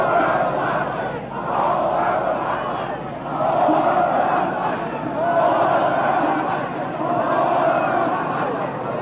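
Protesters outside the 1968 Democratic National Convention in Chicago chant in rising and falling waves. The large crowd sounds moderately distant, with no clear speech on top.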